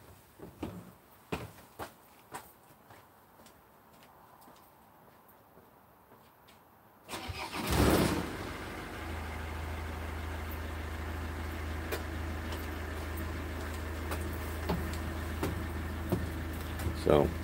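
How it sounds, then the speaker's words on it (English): A diesel vehicle with an EGR fault is started partway through after quiet handling noises and clicks, then settles into a steady, close idle hum that continues to the end. "So I'll just go and start the vehicle."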